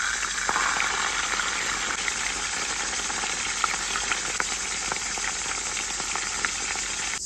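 Chicken pieces seasoned with salt, pepper and turmeric fry in a pan for a Gilani sour-grape stew, giving a steady, close, dense sizzle with small crackles throughout and no talking.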